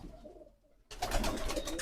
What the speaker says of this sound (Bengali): দেখেন কবুতর ডিমে তা দিচ্ছে